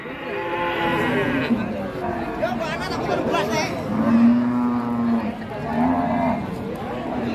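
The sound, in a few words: cattle at a livestock market, Limousin calf and cow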